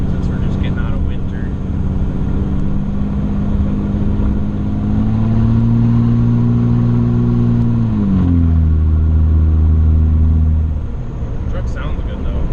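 A tuned third-generation Cummins diesel pickup's engine rumbles steadily with a deep harmonic drone, then the pitch shifts midway as it works through acceleration, close and loud.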